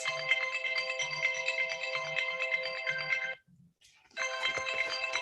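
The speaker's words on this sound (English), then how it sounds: "I need to answer this phone call" A phone rings with an incoming call, a bright melodic ringtone playing steadily for about three seconds, cutting off briefly, then starting again, close and clear with no talking.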